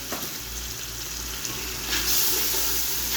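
Chopped pumpkin frying in spices on a high flame, a continuous close sizzle with occasional stirring scrapes and a brief louder hiss surge near the end.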